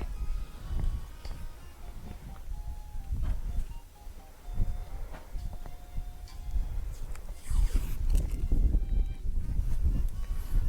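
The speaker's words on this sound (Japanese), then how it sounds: "風の音うるさかったらごめんなさいね" Gusts of wind buffet the microphone in low, rumbling bursts that come and go, with a little faint clicking in the background, outdoors while masking a Nissan Skyline R34's headlights for polishing.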